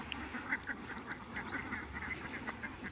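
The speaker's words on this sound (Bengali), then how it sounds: "দেখুন কত হাঁস।" A flock of confined ducks on a Chalan Beel duck farm quacks repeatedly in short bursts, several calls overlapping at moderate distance against a constant outdoor hum.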